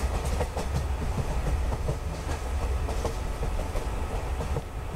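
A passenger express train running in the MSTS train simulator game, with steady rumbling rail noise and a rhythmic clickety-clack of wheels over track joints, continuous and fairly loud with no talking.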